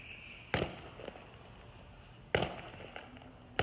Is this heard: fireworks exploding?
yes